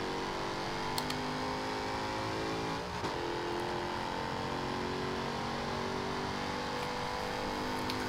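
A 2015 Jaguar F-Type R with its 5-liter V8 accelerates hard in the Forza Horizon 2 racing game, a loud, steady engine drone that climbs in pitch and dips briefly at a gear shift before pulling on.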